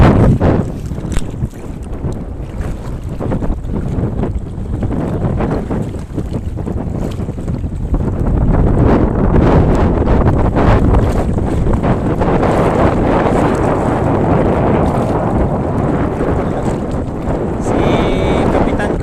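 A fishing boat moves across open sea with steady engine drone, heavy wind buffeting the microphone, and water rushing throughout.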